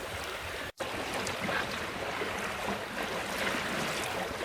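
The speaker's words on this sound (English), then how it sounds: "We're sailing along with the spinnaker still at" A sailboat runs under spinnaker at about 4.5 knots, its hull rushing steadily through the water with a constant broad wash and wind noise, close and unbroken apart from a momentary dropout.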